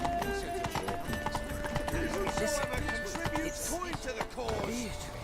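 In Witcher 3: Wild Hunt, the horse Roach gallops with rapid rhythmic hoofbeats and a brief whinny, mixed with other game sounds and a voice speaking.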